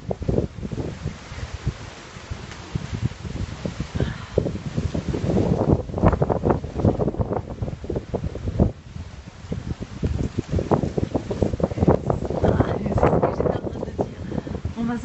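Gusty wind buffets the microphone during a storm chase near Montferrier-sur-Lez in Occitania, France, a rough continuous roar with rising and falling gusts throughout.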